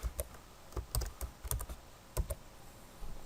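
Keys clatter on a computer keyboard in a quiet room, in irregular bursts of quick clicks with short pauses, close and fairly soft, no voices.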